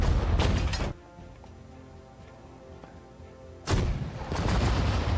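Artillery and mortar fire in the strategy game Sudden Strike 4 at Ypres: loud bursts of booming blasts at the start and end, separated by a quieter stretch of distant rumble and ambient battlefield noise.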